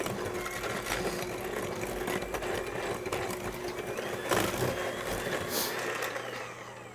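Electric stand or hand mixer creaming butter and sugar for chocolate drop cookie dough, a steady motor whir running throughout with no talk, easing off slightly near the end.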